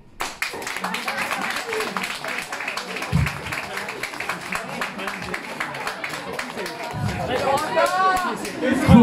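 An audience at a stand-up comedy show in Montpellier breaks into scattered clapping and applause, mixed with crowd chatter, and the comedian keeps talking over it throughout.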